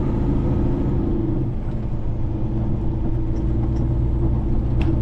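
A semi truck engine running rough, a loud, close, continuous low diesel rumble with an uneven, lumpy pulse, no voices.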